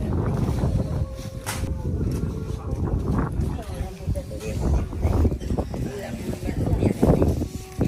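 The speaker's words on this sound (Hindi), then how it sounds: "भैया भैया हवा बहुत तेज चल रही" Strong, cold winter wind during a cold wave in the Braj region of India, heard as a constant broadband rushing and buffeting close to the mic, with voices talking underneath.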